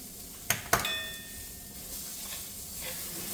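Garlic sautéing over low heat in a pan for Mexican rice: a soft, steady sizzle after two sharp metallic clinks and a short ringing tone at the start, close by and quiet, with no voices.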